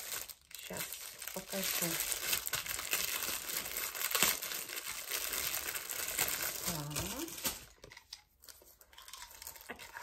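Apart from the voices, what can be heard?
plastic packaging bag crinkling and being torn open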